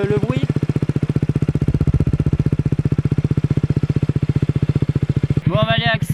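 A KTM Duke 125 motorcycle with an aftermarket exhaust idles close by, its steady rapid low putter running evenly throughout before a short burst of talk near the end.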